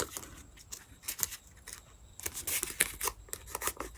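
Silver tape torn and pressed onto a plastic bottle submarine craft. Quick, close ripping and crackling bursts with short pauses between them, fairly quiet, no voices.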